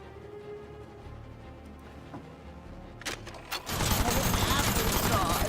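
Gunshots in the video game Aether & Iron arrive as two brief cracks, then a loud, dense volley of rapid firing that fills the rest of the moment above quiet game ambience.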